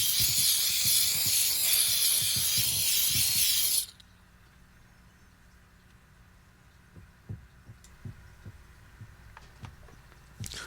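A Central Machinery steam cleaner hisses loudly and steadily on the pedals of a 2003 Honda Civic, then cuts off abruptly, leaving faint scrubbing and tapping sounds.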